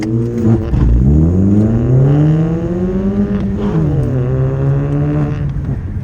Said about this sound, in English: very happy with the way the car sounds.